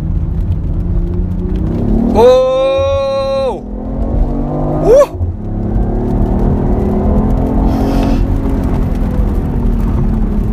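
A 2017 BMW i8 hybrid sports car pulls away hard, a close, steady rumble under a rising harmonic whine that climbs for about a second. A short chirp follows, then a continuous road and engine drone.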